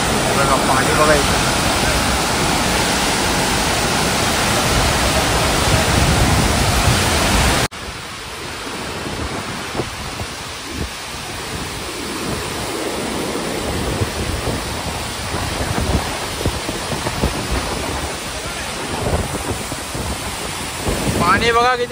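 Water rushing and roaring steadily at Bhandardara, the waterfall country of Maharashtra, a broad continuous wash of noise with wind buffeting the microphone, louder in the first few seconds and then a little softer but unbroken throughout.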